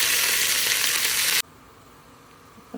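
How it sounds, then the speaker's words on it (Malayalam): Shallots, curry leaves and dried chilies sizzle loudly in hot oil while being stirred, a dense frying hiss that cuts off abruptly halfway, leaving a quiet, low background. "അതിലേക്ക് കറിവേപ്പില, ഉണക്കമുളകും കൂടി ഇട്ടിട്ട് നല്ലോണം ഇളക്കി കൊടുക്കും."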